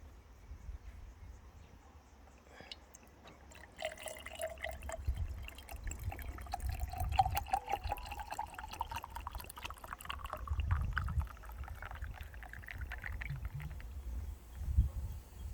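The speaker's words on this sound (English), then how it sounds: "let's pour ourselves a drink" Homemade fermented ginger beer poured into a glass, a quiet liquid stream with fizzing and dribbling that grows after a soft start, with small splashes and bubbles near the end.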